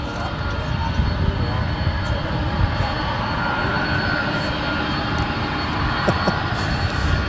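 A jet aircraft taxies across runway 18R at Dallas/Fort Worth International Airport, a loud, steady engine rumble and whine heard from a distance, constant throughout with no voices.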